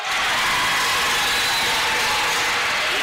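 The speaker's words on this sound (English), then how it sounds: "Crowd will tell you from the response." Basketball crowd in an arena roaring after a made basket during an NSU versus Washburn game, a loud, dense, sustained cheer filling the whole moment without a break.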